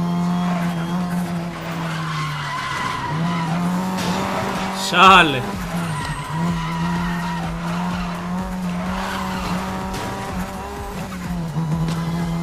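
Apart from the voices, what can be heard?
car skidding under handbrake in Need for Speed Most Wanted video game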